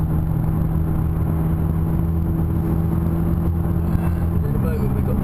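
A McLaren 570S sports car on the Thruxton circuit, its engine droning steadily and loudly from inside the cabin with a constant low hum, rising slightly in pitch near the end as throttle builds.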